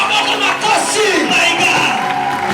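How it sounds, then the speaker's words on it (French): A church congregation cheers and acclaims loudly during a deliverance service, a dense crowd roar of overlapping voices and whoops that stays steady and close throughout, with no pauses. "Acclame très fort"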